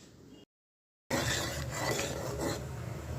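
Homemade tomato sauce with tamarind stirred in a pan. A spoon rasps and scrapes against the pan bottom under a steady low bubbling, after a brief cut to silence at the start.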